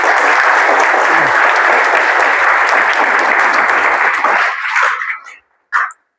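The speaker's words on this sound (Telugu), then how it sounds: "ఒక్కసారి గ్రేట్ రౌండ్ ఆఫ్ అప్లాజ్ ఇవ్వండి మీరు." A large audience in a seminar hall gives a loud, dense round of applause that continues for about five seconds, then cuts off abruptly, followed by a brief trailing burst.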